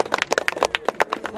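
A church congregation at an HKBP jubilee celebration in Lobutangga, Muara, clapping hands together: quick, fairly even overlapping claps, close and lively.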